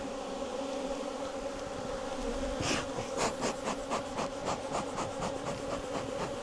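Honey bees buzz in a dense, continuous drone close by around their hive, with scraping and knocking sounds joining partway through.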